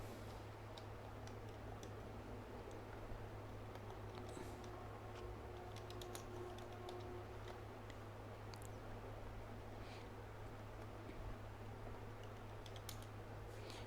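Soft, quiet keystrokes of someone typing C program code on a computer keyboard, scattered light clicks over a constant low hum, with no talking.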